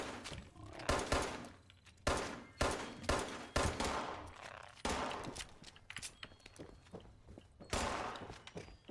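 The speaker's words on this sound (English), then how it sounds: "Another great thing I like about games is you can shoot through the windows." Gunfire in Fallout 76 as shots are fired through windows, a series of sharp, loud bursts spaced irregularly, some in quick clusters, with rattling debris and quieter movement sounds between them.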